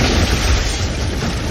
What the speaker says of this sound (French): Puis une seconde explosion